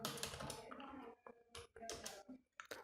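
Computer keyboard typing at a desk, a quiet run of rapid key clicks in several short bursts with brief pauses between them.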